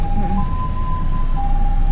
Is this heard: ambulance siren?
yes